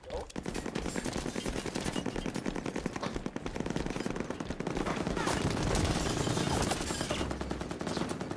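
Rapid automatic gunfire from a Halo 5 multiplayer match roars continuously and loudly, with dense bursts and explosions layered throughout and a voice talking faintly underneath.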